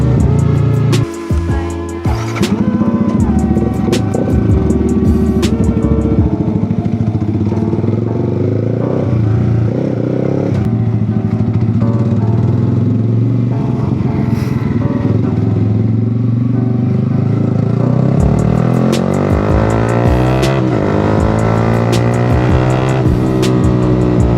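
A motorcycle engine rumbles steadily while filtering through a long queue of stopped cars in traffic, with its tone rising and falling as it speeds up and slows, close and continuous for the whole stretch.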